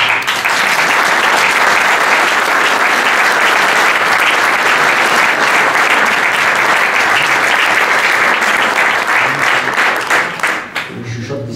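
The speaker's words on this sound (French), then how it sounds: "c'est suffisamment formidable pour que je vous demande de l'applaudir" Loud, sustained applause from a crowd gathered at a town hall event in Meulan-en-Yvelines, a thick continuous wall of clapping for over ten seconds that thins out at the very end.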